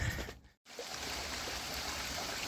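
A small stream trickles beside a railway line on a hike along the CSX Pittsburgh and NS Youngstown lines, a steady close water rush broken only by a momentary dropout near the start.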